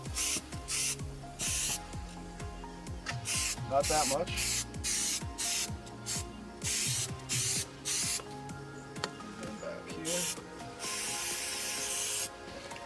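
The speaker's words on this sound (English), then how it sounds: "So you're just going to want to spray a little bit here." Short bursts of rubbing alcohol solution sprayed on a 2007 Dodge Charger SRT8 carbon fiber dash repeat in quick succession, each a few seconds long with brief pauses, while a voice speaks briefly in between.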